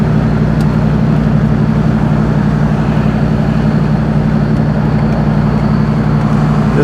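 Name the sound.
5.2 V8 Jeep ZJ truck engine and dual exhaust under throttle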